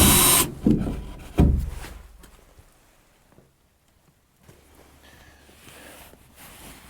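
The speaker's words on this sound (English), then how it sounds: "I'm going to go on the inside and go through my pilot hole so there's no splinters splintering out the back side" A drill bit passes through a pilot hole from the back of a wooden outbuilding wall, with a loud burst of whirring and grinding at the start, a second short burst, then quieter scraping and handling.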